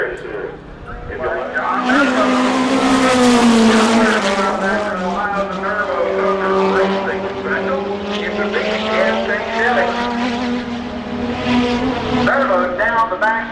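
NAMARS midget race cars circling the track at Winchester, Indiana, a loud sustained engine roar rising and falling as cars pass, with a track announcer talking over it throughout.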